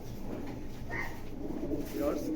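A black racing homer pigeon hen coos in a loft, the soft, low calls rising intermittently through steady background noise and voices talking.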